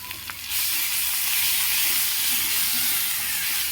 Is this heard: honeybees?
no